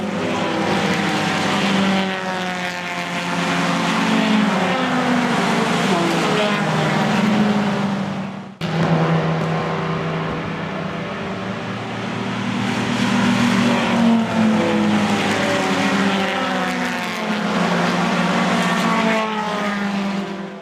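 Vintage race cars in the SVRA Blue-Gray race at Summit Point, West Virginia roar past the start-finish line, engines loud and continuous with rising and falling revs as cars sweep by one after another.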